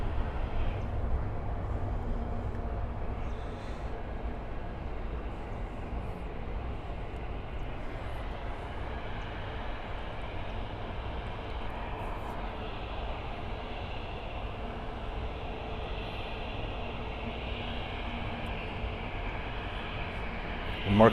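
A Copa Airlines Boeing 737 MAX 8 jet gives off a steady, distant, low rumbling roar as it flies over a Miami airport, with a commentator talking intermittently above it.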